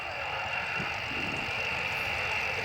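An F-16 with a single Pratt & Whitney F100 engine performs at the 2006 Leuchars airshow, giving a continuous, loud broadband jet roar that holds steady without a break.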